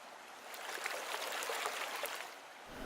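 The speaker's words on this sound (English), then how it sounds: "I still like watching it flowing down the stream on its way to Pontypool and out to the sea." A small stream near Blaenavon flowing toward Pontypool, a soft, steady rushing and trickle of water heard close and fairly faint, with no voices.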